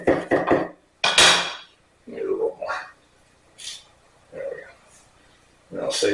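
A knife roughly chops fresh oregano on a board, giving a quick burst of close, sharp knocks at the start, then a few scattered softer cuts with a voice talking in between.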